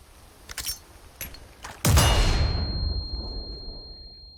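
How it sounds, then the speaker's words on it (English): Flash grenade thrown by Leon in a video game: a few light clicks and taps, then a sudden loud bang that decays into a long ringing tail with a steady high whine. "So here is Leon throwing a flash grenade without his sunglasses."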